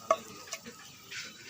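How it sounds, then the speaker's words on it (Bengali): Whole spices like bay leaf, cinnamon, cardamom and cumin frying in oil in a pan for a fish-head dish, a quiet sizzle with a couple of soft utensil taps, brief and close. "হালকা করে ভেজে নেব।"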